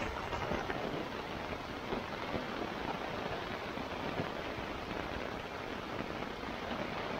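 Steady rain drums on a Sierra Designs Full Moon 2 tent during a thunderstorm, a dense, even patter that holds at a constant level throughout with no voices.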